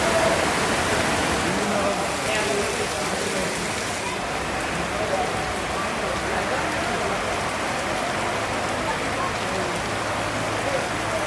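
Rain falling at a busy Bangladeshi riverside fish market, a dense steady patter of drops on surfaces with faint background murmur throughout.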